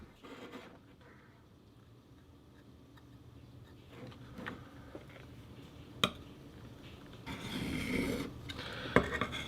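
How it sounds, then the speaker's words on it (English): A tanto knife blade is sharpened with quiet, intermittent rasping strokes against the sharpener, faint at first and growing fuller and louder toward the end, with a few small ticks. "Even the sound of sharpening a knife is therapeutic to me."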